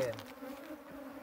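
A large honeybee swarm buzzing: a steady, close, droning hum of many bees, continuous throughout the short stretch, with a faint trace of a voice at the start.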